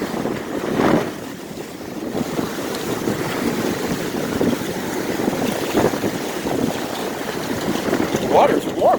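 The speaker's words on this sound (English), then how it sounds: "Big wave." A big ocean wave breaks on Inlet Beach, Florida, in dangerous surf during strong winds, giving a steady loud roar of surf buffeted by heavy wind noise on the microphone. A voice briefly exclaims near the end.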